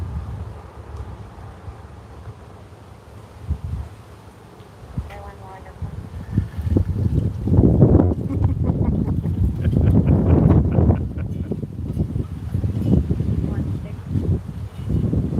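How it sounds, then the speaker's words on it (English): Outdoor wind at a shooting investigation scene on Atchison, a broad rumbling gusty roar buffeting the microphone that swells louder in the second half, with voices talking faintly underneath. "The wind's blowing all of their markers."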